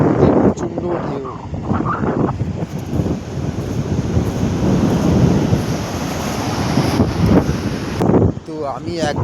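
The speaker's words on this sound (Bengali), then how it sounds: "প্রচণ্ড ঢেউ।" Strong sea waves breaking on a sandy beach beside a resort, a loud continuous roar of surf with buffeting wind on the microphone and no talking.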